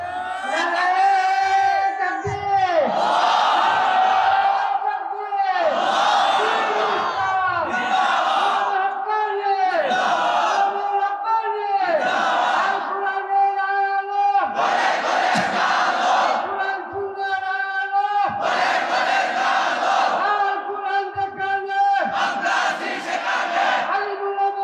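A large crowd at an Islamic religious sermon loudly chants takbir slogans in call-and-response, repeated bursts of massed voices roaring in unison, close and sustained throughout.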